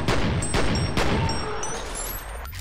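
Gunfire from the PC shooter F.E.A.R. blasts in a dense fusillade of rapid shots and booms, loud and close, tapering into echoing reverberation.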